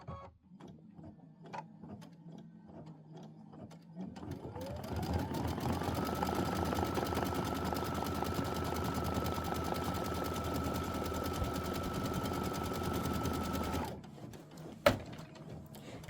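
A sewing machine stitches a quilt block in a long, steady run of about ten seconds, a continuous mechanical whir with a rising whine as it speeds up, preceded and followed by quieter room noise and a sharp knock near the end.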